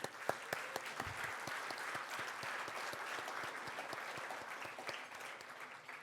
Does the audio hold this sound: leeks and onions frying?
no